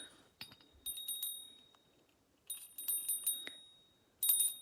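A small bell rings in three separate bursts, bright and ringing with a shimmering tone, each fading out before the next, close to the listener.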